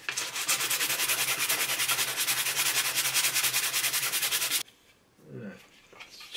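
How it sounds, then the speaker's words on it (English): Close, steady back-and-forth sanding of set filler, smoothing a repair on an Amiga power pack, a loud rhythmic rasping stroke repeating for about four and a half seconds before stopping abruptly, followed by faint handling noises. "So once this is set, start sanding it down, and smoothing it out."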